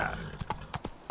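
Roach, a horse in The Witcher 3: Wild Hunt, clops out several distinct hoofbeats in a short burst with a brief whinny-like note, close and clear.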